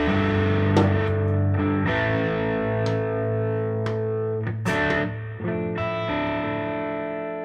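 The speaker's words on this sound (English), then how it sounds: "These are these Fishman Fluence doggone classic humbuckers." Electric guitar through Fishman Fluence Classic open-core humbuckers, played with overdrive and effects, sustaining chords and picked notes ring out loud and close, with no talking.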